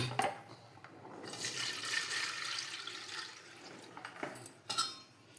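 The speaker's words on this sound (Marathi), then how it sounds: "जरा गाळून घेतोय." A liquid kharvas mixture of milk, jaggery, coconut and cumin is poured through a strainer, a close, soft, steady trickle and splash that builds and then ends in a few brief clinks, with no talking.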